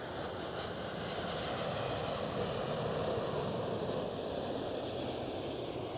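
Engines of a KLM Asia Boeing 777-200ER airliner at Schiphol give a steady, moderately distant broadband roar that stays even throughout.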